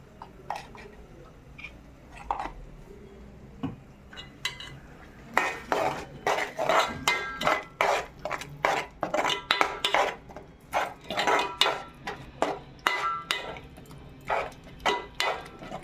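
Ground masala paste is added to a cooking pan and stirred, producing a run of sharp, rhythmic scraping and clinking strokes of a utensil against metal, sparse at first and then quick and steady, close by.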